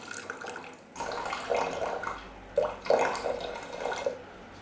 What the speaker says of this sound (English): So now we're going to add to this 150 millilitres of red wine vinegar.